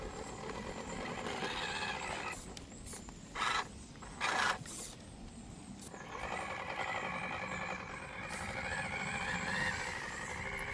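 A small Axial SCX24 RC crawler grinds over a tree, its tiny motor whining with a thin mechanical buzz, with two short louder bursts of wheel and gear noise midway, quiet and close.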